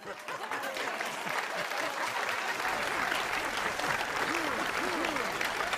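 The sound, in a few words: video game crowd cheer built from recycled character voice clips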